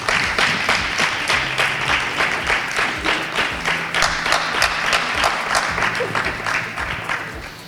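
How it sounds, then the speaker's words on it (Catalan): A studio audience applauds during a Valencian Falles television programme, with steady, enthusiastic clapping at an even level that slowly tapers toward the end. "Un aplaudiment ben fort."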